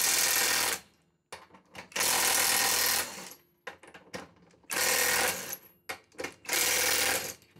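A Parkside Performance PPDSSA 12 A1 cordless impact wrench loosening car wheel bolts, close and loud, firing in four long rattling hammering bursts separated by brief quiet gaps and short clicks.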